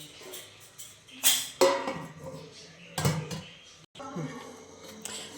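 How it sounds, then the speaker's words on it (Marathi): A spoon knocks and scrapes through masala rice in a metal pot, a few sharp clanks followed by a lid set down with a clatter, close up in a quiet kitchen. "आता मस्तपैकी असं आहे ना चम्मचने असं हलवून घ्यायचं, आणि याला झाकण ठेवून छानपैकी असं शिजू द्यायचं"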